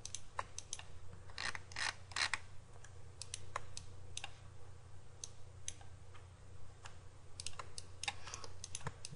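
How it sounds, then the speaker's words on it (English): Computer keyboard keys clicked while retouching a digital portrait, a string of sharp, close plastic taps in irregular bursts with short pauses, heard alone over faint room hum. "I'm clicking Alt key to select"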